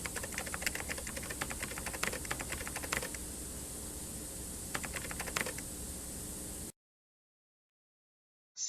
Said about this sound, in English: And then we see Vil1 typing